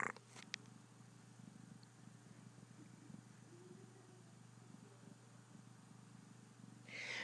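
Quiet, steady cat purring rumbles on nearby, with a few faint clicks at the start and a soft rustle at the end.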